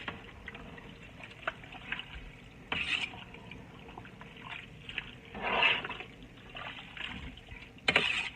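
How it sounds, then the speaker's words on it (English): A big pot of vegetable soup with beef stew strips and hamburger meat is stirred, producing close, wet sloshing swirls with a few louder splashy surges. "Just gonna stir this up like so. I'm glad you all can see what I'm doing in my big pot."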